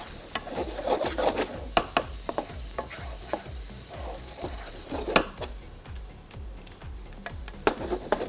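A spoon stirs pepper and paprika into a pasta sauce in a pan, making repeated scraping and rubbing strokes with soft clicks against the metal, fairly quiet and with no talk.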